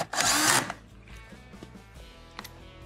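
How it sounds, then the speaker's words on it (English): Power drill runs in one loud, brief burst driving a quarter-inch screw into a Whirlpool dishwasher toe plate panel, then quieter handling clicks and knocks follow. "re-secure the panels with the screw"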